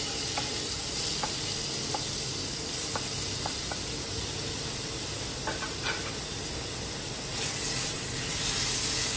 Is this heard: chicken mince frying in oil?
yes